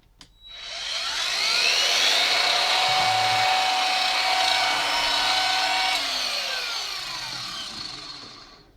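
An Einhell TE-AG 18 Li cordless angle grinder spins up, runs with a steady high whine for several seconds, then winds down gradually, heard close and alone.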